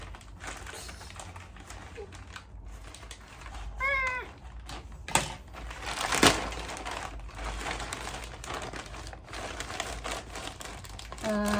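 A plastic product bag is cut open and crinkled, giving scattered crackling and rustling with a few sharper snips, close and fairly quiet, with brief faint vocal sounds in the background.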